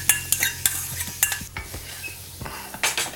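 Carrot, bouquet garni and onion stirred into a pan after beef chuck is lifted out, a run of scraping, clinking utensil strokes against the pot over a light sizzle, close and uneven.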